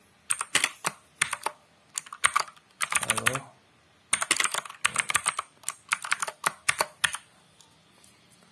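Rapid computer keyboard typing of a Bash shell script in irregular bursts of clicky keystrokes, close and clear, with short pauses between flurries and no talking.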